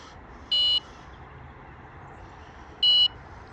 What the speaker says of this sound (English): you've seen there the alarm moved off